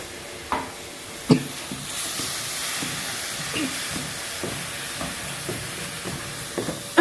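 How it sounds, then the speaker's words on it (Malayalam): Tomato puree frying in a pan for a Kerala fish curry, giving a steady hiss and sizzle with intermittent scraping stirs and a few sharper clatters of the spoon against the pan, close and alone. "അപ്പോൾ അതൊന്ന് നമ്മൾ കുറച്ച് നേരം ഒന്നിങ്ങനെ ഇളകി കൊടുക്കുക"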